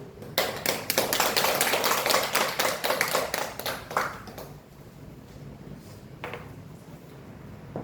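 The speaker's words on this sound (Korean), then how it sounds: "영광의 박수로 하나님을" Congregation applauding in church during a Sunday worship service, a loud burst of many hands clapping for about four seconds that then stops abruptly, leaving a quiet hall with a faint stray clap.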